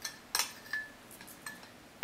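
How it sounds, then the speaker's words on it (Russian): Metal spoon clinking against a bowl while scooping sugar for syrniki, a few sharp scattered clinks and scrapes, close and fairly loud, with no talking. "бери ложкой и выгребай сахар"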